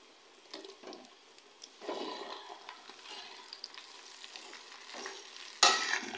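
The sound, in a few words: okra added to fried onions, stirring and sizzling in pan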